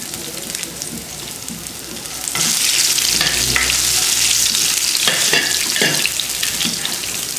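Peppercorns, cumin and ginger hit hot oil for wheat rava pongal, setting off a sudden loud, steady sizzle that keeps crackling close by after a quieter start.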